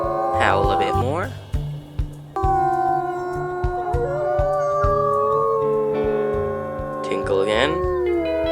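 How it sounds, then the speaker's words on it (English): Wolves howl in a wolf video game: drawn-out, layered howls rise and waver together in the middle, with sharper yipping bursts at the start and end. "Howl a bit more."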